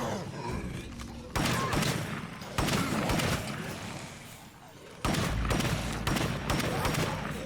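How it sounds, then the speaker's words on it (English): Loud guns fired in the zombie survival game State of Decay 2: three sharp onsets of rapid, continuous shooting, each burst sustained for a second or more, close and forceful. "I'm firing really loud guns, and I'm bringing more zombies."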